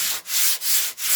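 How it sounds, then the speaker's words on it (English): Rhythmic scratchy strokes of 80-grit sandpaper rubbed by hand over wood, three back-and-forth passes with brief pauses between, close up and fairly loud. "So these ones I use for sanding by hand."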